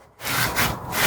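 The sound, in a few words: rag rubbing a brake rotor dry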